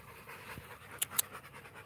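A dog pants steadily at close range, quick rhythmic breaths continuing throughout outdoors, with a couple of brief sharp clicks partway through and no talking.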